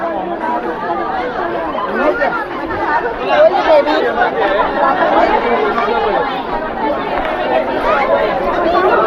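Lively babble of a packed crowd at the Bandra Mount Mary fair, countless voices overlapping near and far in a continuous, fairly loud wash of talk.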